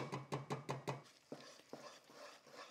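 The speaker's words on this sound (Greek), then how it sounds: "Ανακατεύουμε για 20 με 25 λεπτά." A spoon stirring semolina halva in a pot, a run of quick, rhythmic scraping strokes followed by slower, softer ones, close up with no voices.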